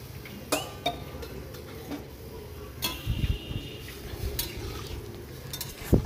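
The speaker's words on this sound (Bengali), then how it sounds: "জল দেওয়ার পর একটু মিশিয়ে নেব" Ripe mango chutney is stirred in a pot after water is added, with scraping and sharp clinks of a spoon against metal at irregular intervals over a soft background hiss, no talking.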